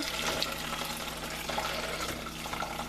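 Turmeric tea being poured from a pot through a strainer, a close, steady liquid trickle and splash lasting a few seconds without speech.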